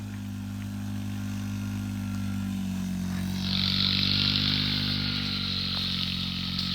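A small four-wheeler ATV engine runs steadily at a low, even drone, then the pitch climbs slightly as it revs up partway through, holding a louder buzz to the end.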